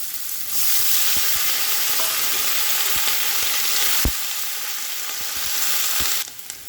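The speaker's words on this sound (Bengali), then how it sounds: "এবার আমি প্রথমেই গাজর আর পেঁয়াজকলিগুলোকে একটুখানি ভেজে নেব।" Carrots and spring onions fry in hot mustard oil for a Bengali winter mixed-vegetable dish, a steady loud sizzle broken by a few sharp clicks of a spoon against the pan, ending with a brief louder hiss.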